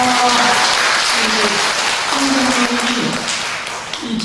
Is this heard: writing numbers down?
no